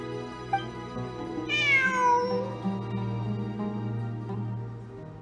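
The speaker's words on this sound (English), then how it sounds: "It really is a cat." A cat meows once in Genshin Impact, a clear rising-then-falling cry at mid-clip over a steady background music drone, with no talk.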